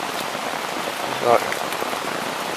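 Rain patters steadily on a tent, a dense, even drumming heard close up, with a brief spoken word partway through.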